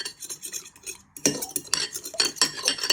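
A fork beats eggs in a bowl for a cake batter, giving quick, rhythmic clinks and scrapes against the bowl, close and fairly quiet, with a brief pause before faster strokes.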